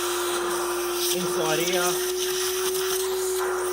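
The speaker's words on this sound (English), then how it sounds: "now we've got the vacuum cleaner. I'm going to clean this mess up, get rid of the swarf." Vacuum cleaner sucking up metal swarf after a DIY manual roller shutter install on a GWM Cannon, a steady loud whining drone with brief rattling pickup, while someone speaks a few words over it.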